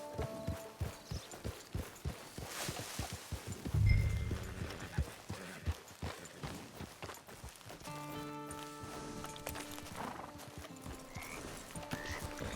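Horse hooves clip-clop at a steady walking rhythm in Red Dead Online, with a horse whinnying partway through and a musical score playing underneath.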